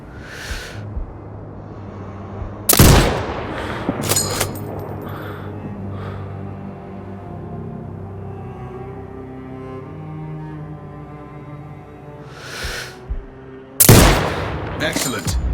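Sniper rifle shots in the game Sniper Ghost Warrior Contracts 2 during training, with two loud sharp cracks spaced well apart over a low engine-like background hum and a few softer thuds.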